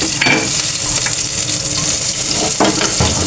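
Chopped garlic sizzles and fries steadily in hot oil for Filipino kare-kare, a loud continuous crackle with occasional stirring scrapes, no voices over it.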